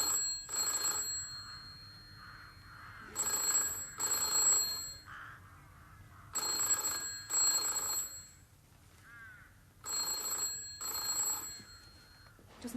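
An old-style telephone bell rings in repeated double bursts, clear and fairly close, with quiet pauses between each pair of rings.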